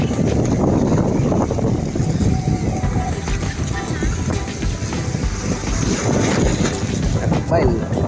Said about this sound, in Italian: c'è un leggero venticello